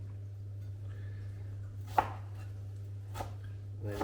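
A knife chops onion for green tomato chutney, a few sparse, quiet thuds on a board over a low steady hum.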